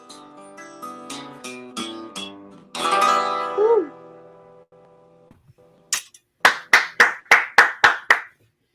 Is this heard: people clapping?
yes